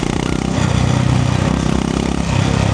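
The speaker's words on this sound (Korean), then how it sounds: "엔진이 부드럽고 배기음이 듣기 좋아요" Honda GB350 motorcycle idling with a steady, smooth low engine thrum and soft exhaust burble, close and continuous without revving.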